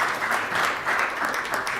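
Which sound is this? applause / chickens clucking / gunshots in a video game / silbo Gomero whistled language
applause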